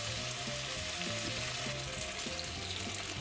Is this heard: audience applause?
no